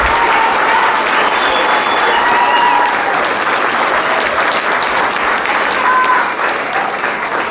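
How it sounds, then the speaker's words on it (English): Sustained applause from a graduation audience at a 2019 sixth-grade ceremony at Canyon Crest Elementary, a loud, dense wash of clapping that fills the whole stretch without pause, with faint cheers or whistles rising above it. "Round of applause for Ms."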